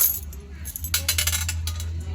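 Coins dug up from a termite mound clink and jingle as they are handled up close, in a cluster of small metallic taps over a steady low hum.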